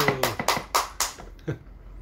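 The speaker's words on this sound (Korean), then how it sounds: "박수." Hands clap in a steady rhythm during a church gathering, giving a series of about six sharp, close claps at even intervals that fade toward the end.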